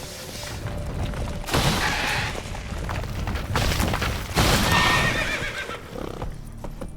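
Horse galloping in the video game Witcher 3, rapid clip-clop hoofbeats throughout with loud neighs and whinnies breaking in, close and prominent over a busy game soundscape.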